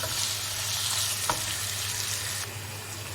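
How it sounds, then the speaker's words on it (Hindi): Chicken sautés in a pan for a turnip and spinach gravy, a steady close hiss of frying oil with one brief utensil knock partway through, no voices. "हम अभी तकरीबन इसको 2 या 3 मिनट भूनेंगे"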